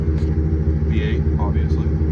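A 2013 Chevrolet Silverado with the 5.3-liter V8 and a Flowmaster 40 series muffler idles, giving a deep, steady, loud rumble with an even throb, while someone talks over it.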